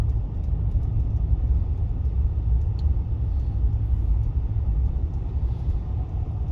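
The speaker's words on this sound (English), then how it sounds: "here we are driving the wrong way down a one-way street on purpose" A car driving the wrong way down a flooded one-way street in North Beach, Corpus Christi, Texas, heard as a continuous low cabin rumble and steady engine drone with no talk.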